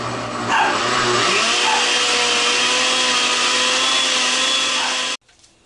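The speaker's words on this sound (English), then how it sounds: "we were going to continue blending this until it is" A blender whirs loudly and steadily through a flan de queso mixture of cream cheese, a dense continuous roar held for about five seconds before it cuts off abruptly into near silence.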